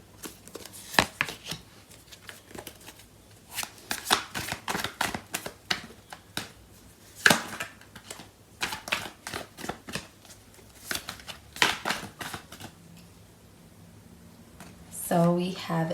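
Tarot cards being shuffled by hand, a close, quiet run of rapid riffles and soft slaps in uneven bursts over about fifteen seconds, ending with a faint voice.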